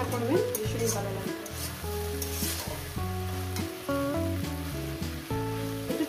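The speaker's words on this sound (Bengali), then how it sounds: "দিয়ে এটাকে এবার ভাজতে থাকবো।" Shrimp fry with water spinach greens in a pan, making a busy, continuous sizzle with stirring scrapes. Steady background music plays throughout, and the frying stays close and fairly loud beneath it.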